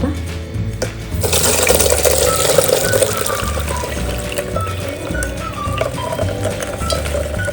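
Leftover soaking water poured onto potted plants, a steady close splash and trickle of liquid running for several seconds with a faint mechanical hum underneath.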